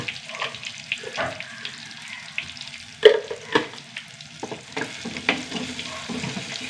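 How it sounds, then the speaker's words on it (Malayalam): Curry leaves and turmeric powder fry in a pan for a Kerala-style tamarind curry, a steady close sizzle broken by sharp stirring scrapes and clinks, with no talk. "കറിവേപ്പില മൂത്ത് വരണം കുറച്ച് മഞ്ഞപ്പൊടി ഇട്ട് കൊടുക്കണം"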